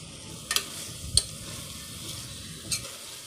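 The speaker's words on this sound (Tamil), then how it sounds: "சிக்கன் சேர்த்து நல்லா பரட்டி விடுங்க" Chicken stirred and fried with biryani masala in a hot pan, a steady sizzle running throughout with a few sharp scrapes and clinks of the spoon against the pan at intervals.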